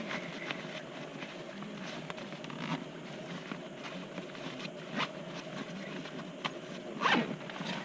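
A zipper closes on a Chums Grafton 60 backpacking pack: soft, repeated rasping pulls, fairly quiet and close, with a sharper, louder zip stroke near the end and no talking.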